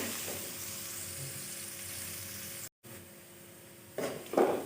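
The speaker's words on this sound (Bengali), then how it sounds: "এটাকেও লাল লাল করে ভেজে নিচ্ছি।" Onions fry in hot oil in a pan for a fish dish, giving a steady close sizzle that cuts out briefly, then returns with louder bursts of crackling as they are stirred.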